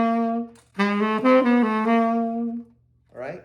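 A tenor saxophone plays a short bebop enclosure phrase landing on the 7th, a few clear, sustained notes up close, followed by a brief spoken word.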